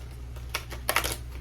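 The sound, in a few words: shuffling oracle cards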